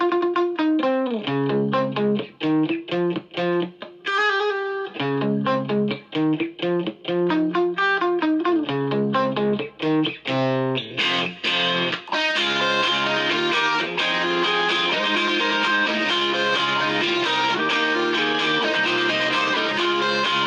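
Guitar double tracked through a Vox AC30 and a Yamaha G100 amp at once, first choppy picked riffs with short gaps, then a dense, sustained wash of strummed chords ringing out loud and full.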